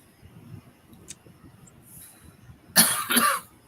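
A person coughs a couple of times in quick succession, fairly close and loud after a quiet stretch of faint background noise.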